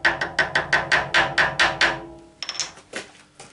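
Hammer taps on a part being seated on a Cormak ZX-7045 milling machine during a quill plate upgrade: a quick run of about nine sharp, evenly spaced metallic blows, then a few lighter, scattered knocks, close and loud with no talking.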